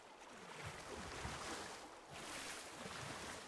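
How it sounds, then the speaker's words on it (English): Water splashes and sloshes steadily in the video game Ark: Aberration, a faint, continuous wash of broadband noise with soft surges and no voices. "Oh, I hear a lot of splashing."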